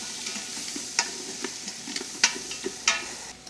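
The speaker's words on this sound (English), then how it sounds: "we're stirring these vegetables up" Vegetables sizzle steadily in a hot pan while a utensil scrapes and clinks against it every so often, close and moderately quiet, as aromatics are sautéed for beer-braised short ribs.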